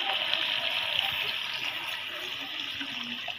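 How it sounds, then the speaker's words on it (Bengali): Water splashes steadily into a pot of cooking plantain curry, a continuous rushing pour close by with no talking. "এই তো পানি দিয়ে দিচ্ছি"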